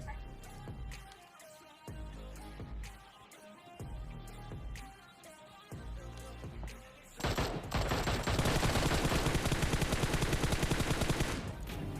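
Gunfire rattles through a battle royale video game fight, starting as spaced bursts over game music and building into a dense, continuous barrage of rapid shots that dominates the last few seconds.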